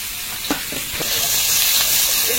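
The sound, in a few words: chopped onion and garlic frying in oil in a wok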